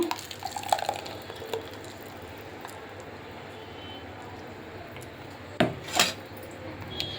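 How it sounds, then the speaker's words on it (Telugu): Quiet kitchen handling as an ice cream mixture is transferred into a steel bowl, with a few soft clinks and scrapes of a utensil against the metal, ending in two sharper clatters near the end. "ఇప్పుడు నేను ఇదంతా ఈ గిన్నెలో వేసుకుంటున్నాను"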